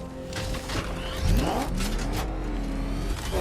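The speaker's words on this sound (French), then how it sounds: "Je vais essayer quand même de rentrer avec la voiture." Batmobile from the Batman Arkham Knight video game driving and revving, a steady engine drone with rising and falling pitch sweeps, loud and continuous with no talking.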